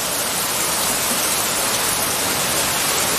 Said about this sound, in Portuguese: mas não para de chover, está chovendo torrencialmente.